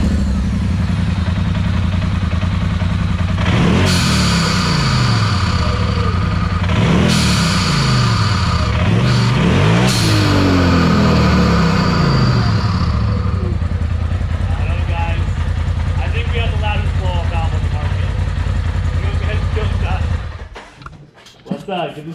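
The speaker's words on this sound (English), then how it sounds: "I'm going to give you a little sample of the whoosh sound just here in park." A Polaris RZR XP4 Turbo sitting in park is revved hard several times, each close, loud rev rising and then dropping away with a sharp turbo blow-off-valve whoosh, before the engine settles to a steady idle and then cuts off.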